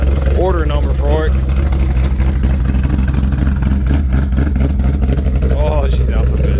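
2015+ Ford Mustang GT V8 with a ghost cam tune idling with a choppy, lumpy rhythm, loud and close, while someone talks over it.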